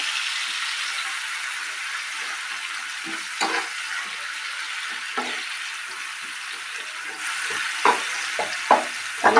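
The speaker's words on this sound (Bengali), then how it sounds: "পেঁয়াজের পেস্টটা দিয়ে কিছুক্ষণ কষাতে থাকবেন।" Onion paste sizzles as it is stirred and fried in a pan, a steady close hiss broken by a few sharp scrapes and knocks toward the end, with no talking.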